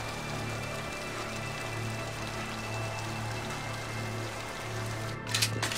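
Steady rain from the Mass Effect 2 video game falls as a continuous, even hiss of drops, with a low droning hum beneath it and a brief brighter patter near the end.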